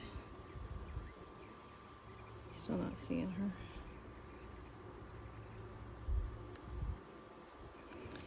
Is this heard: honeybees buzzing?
yes